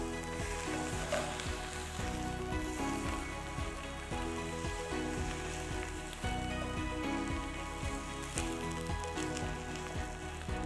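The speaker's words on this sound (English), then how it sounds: "So to this, I'll add the pieces of lamb." Pieces of lamb sear in a hot pan with browned onions for nalli nihari, producing a dense, continuous sizzle and crackle at steady loudness throughout, with faint stirring scrapes and no talk.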